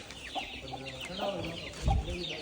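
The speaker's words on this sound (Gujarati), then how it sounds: "કુકડા બધા છે" Chickens, roosters and hens with chicks, cluck in a coop or pen on a farm, with several short clucks close by and a low thump near the end; a voice talks faintly at times.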